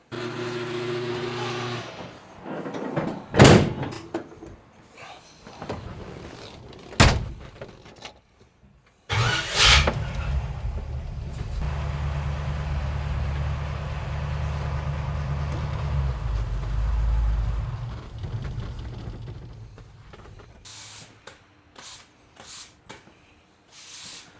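A 2022 Toyota 4Runner starting up in a garage, with a few sharp clicks and door thumps, then the engine cranking and settling into a low, steady idle for several seconds before shutting off and more clunks follow.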